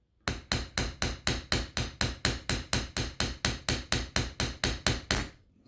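A hammer strikes a coin held upright while it is shaped into a ring, about twenty sharp, evenly spaced metallic taps in a steady rhythm, close and loud, with no voices.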